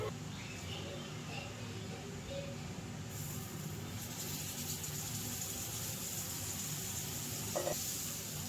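Marinated fish fries in hot oil with a faint, steady crackling sizzle, low in level and continuous, with a brief sharper pop near the end.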